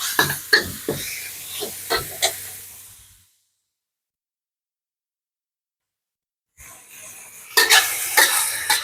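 Minced pork being stir-fried in a pan, with sizzling and stirring scrapes in bursts near the start, a long silent gap, then louder sizzling and spatula clatter returning at the end.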